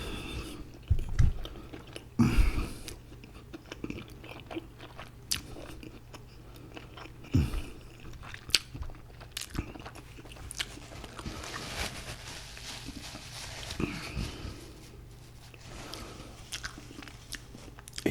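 Close crunching bites and wet chewing of fried chicken drumsticks and thighs with noodles at lunch, irregular crisp bites over steady mouth sounds, no talking.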